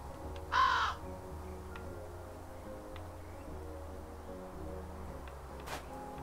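A raven in the video game Calico gives a single short caw near the start, then quiet ambient game sound with a faint later rustle; no talking.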